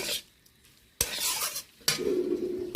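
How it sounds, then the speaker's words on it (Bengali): Shrimp fries with onion and tomato in a pan, three bursts of stirring with a spoon scraping the pan, each followed by a bright sizzle, close and loud. "হালকা চিংড়িটা বেশ ভালো করে ভেজে নিলাম পেঁয়াজ টমেটোর সাথে।"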